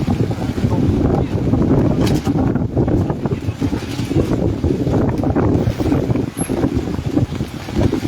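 Storm wind blasts over an outdoor stage at a show in Bang Bua Thong, a loud continuous roar and buffeting gusts battering the microphone without letup.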